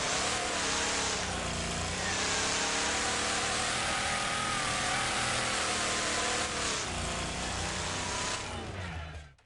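A car engine in the racing game Wreckfest drones loudly and steadily, its pitch sagging and bogging down, with a brief dip midway and a fade at the end.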